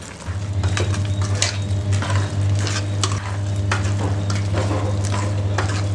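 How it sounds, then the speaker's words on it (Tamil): Goat intestine curry with homemade ground chilli powder bubbles and sizzles in a pot, close and fairly loud, with repeated scraping strokes of a stirring spoon over the steady hiss. "பாருங்கள், இதிலே கொதிக்க ஆரம்பிக்குது இல்லைங்களா"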